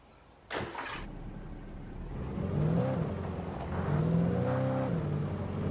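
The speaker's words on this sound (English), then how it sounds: "Got a new car to try out." Car engine cranking to life and revving up and down in Alan Wake Remastered, a sharp start followed by rising and falling engine tones, loud and close with no talk.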